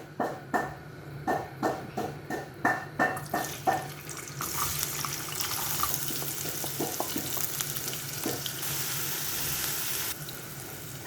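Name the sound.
chopped onions frying in oil for tempeh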